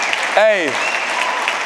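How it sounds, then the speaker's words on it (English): Audience applause at a UFC and jiu-jitsu mindset talk, clapping for a fighter named Trey; a crowd claps steadily while a voice calls out over it near the start. "Yeah, give him a round of applause."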